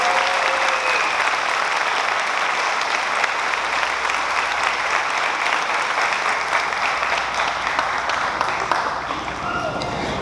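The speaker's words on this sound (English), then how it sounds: "One more round of applause for the Madrigal family." A full audience applauds at a high school graduation ceremony, loud sustained clapping filling the hall for about ten seconds, with some crowd voices mixed underneath.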